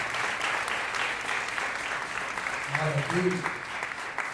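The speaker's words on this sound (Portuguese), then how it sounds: "Você pode aplaudir ao Senhor mais uma vez pela palavra dele?" A church congregation applauds at a Sunday service, a steady broadband wash of clapping that holds throughout, with a voice briefly speaking over it near the end.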